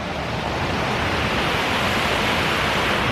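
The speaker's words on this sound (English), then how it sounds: "The rapids." River rapids rushing in the Welsh countryside, a loud, steady broadband roar of churning water that continues unbroken and close, with no talking.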